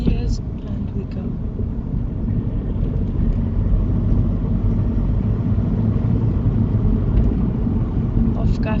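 Car pulling away during a driving lesson, a steady loud engine and road rumble inside the cabin that holds even throughout, with people talking over it.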